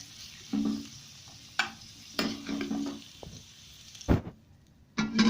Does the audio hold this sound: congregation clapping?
no